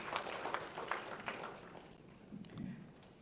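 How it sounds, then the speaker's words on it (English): Scattered applause from a crowd, steady clapping that thins toward the end, with a brief sharper noise near the close. "Another round of applause for the CEO of AIPH."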